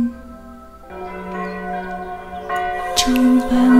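Church-style bells ring within a Vietnamese Christmas song, chiming over sustained music with a bright strike near the end, fairly loud and continuous for a few seconds.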